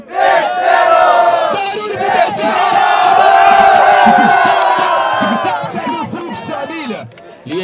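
A big crowd at a freestyle rap battle, Batalha do Tanque, cheers and shouts loudly for several seconds, with whoops and yells rising over the noise before it gradually dies down.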